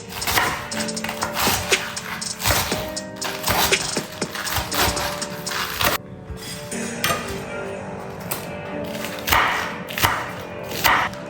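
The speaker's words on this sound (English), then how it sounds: "Now I'm going to chop this up." A knife chops cucumber on a cutting board: repeated close taps and thuds in uneven runs, mixed with light clinking of kitchenware.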